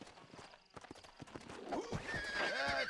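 Horse hooves clopping and a whinny in Red Dead Redemption, the hoofbeats quiet at first and then a louder neigh swelling over the steps, with a few faint voices mixed in.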